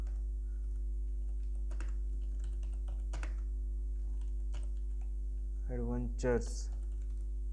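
Video tags are typed on a computer keyboard as sparse, quiet clicks over a steady low hum, with a brief spoken word near the end.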